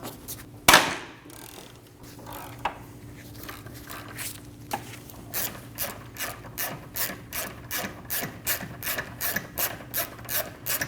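Ratchet working a subframe bolt loose on a 2012-2022 Volkswagen Passat, beginning with a sharp metallic knock and scattered clicks, then settling into an even, repeated run of close ratcheting bursts.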